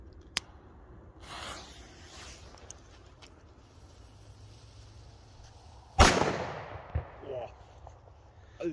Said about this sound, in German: Wir kommen zu den Funke B-Böllern. Feuerfrei.